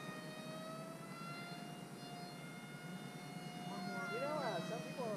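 An FMS A6M Zero 1400mm RC model plane passes by with a steady, low purring engine tone that swells slightly toward the end. The sound is faint against the outdoor background, and people talk nearby.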